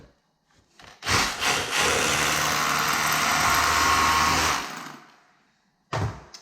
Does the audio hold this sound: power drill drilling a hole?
yes